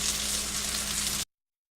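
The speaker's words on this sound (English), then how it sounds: "we can throw in our hamburger patties 2 at a time and cook them for 3 to 5 minutes on each side" Turkey burger patties fry in melted butter in a pan, a steady, close hiss and crackle of sizzling fat that cuts off abruptly.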